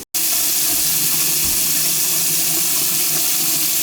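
Water rushes and hisses steadily down a bathroom sink drain that had been draining slowly, a close, continuous broadband wash after a sudden start.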